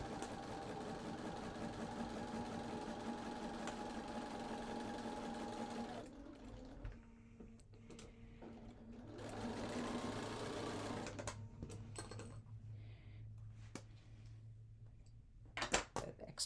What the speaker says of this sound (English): I'm going to sew down that right hand side 1/4 inch